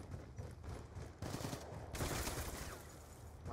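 Gunfire from Call of Duty Black Ops 2 in gun game mode, a dense continuous rattle of automatic game shots mixed with other in-game sounds, fairly loud and steady throughout with no talk.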